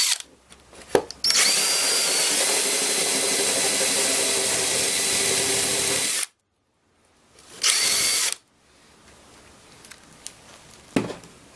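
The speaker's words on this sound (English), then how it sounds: "run your hole saw in reverse" A power drill spins a hole saw in reverse against a surfboard, a steady loud high whine running for several seconds, stopping abruptly, then a short second burst followed by quieter handling noises.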